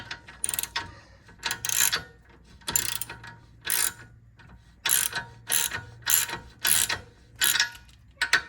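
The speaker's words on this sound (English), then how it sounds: "take your 22mm socket and tighten that bad boy" Ratchet with a 22mm socket tightening a lower ball joint nut on a Hyundai or Kia, heard as about a dozen crisp clicking bursts in a steady rhythm, close up and alone.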